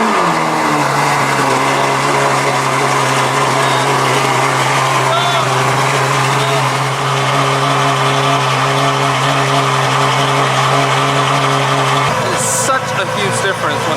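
Ferrari engine idling and running after a cold start, a steady close mechanical drone with high idle that drops lower near the end, with a brief sharp noise at the very end.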